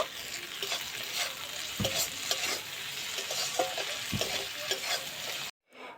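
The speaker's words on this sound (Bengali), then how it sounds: "টমেটো কুচি দিয়ে দেব টমেটোটা এবার ভেজে নেব" Chopped tomatoes fry in a pan with ginger and garlic, a continuous close sizzle broken by repeated scrapes and knocks of a spatula stirring, with no voices.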